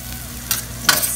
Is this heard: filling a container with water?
no